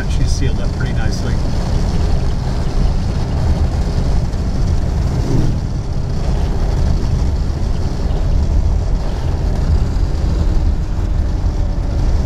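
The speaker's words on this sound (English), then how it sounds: "So slight amount of wind noise coming up here, somewhere around this seal" A 1962 Rolls-Royce Silver Cloud II cruising on a road, heard from inside the cabin as a steady loud rumble of road and wind noise with a faint whistle from a door seal.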